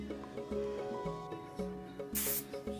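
A short burst of aerosol spray hisses over soft background music with a steady rhythmic beat.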